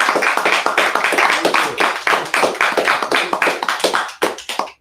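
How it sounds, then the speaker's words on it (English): A small audience claps for a Tuskegee Airman honoree, fairly close, sparse and uneven individual hand claps in quick succession rather than a dense roar, tapering off at the end. "How about a round of applause, everybody?"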